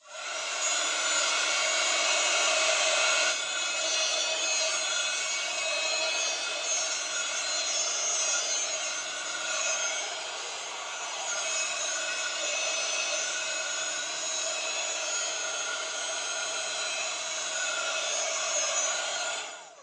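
A hot air craft dryer runs steadily and loudly on an Easter card, a continuous whooshing blow that holds for about twenty seconds with slight dips in intensity.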